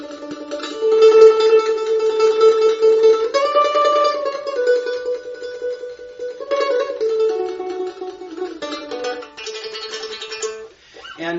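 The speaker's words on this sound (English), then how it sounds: "up to speed, a tremolo sounds like this" A mandolin plays a melody in fast tremolo, rapid alternating pick strokes blurring each note into a sustained, shimmering tone, moving through several pitches clearly and alone.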